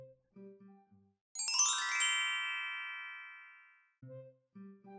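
A phone rings once with a bright electronic chime that rises and fades over about two seconds, set between short bursts of low tones on either side.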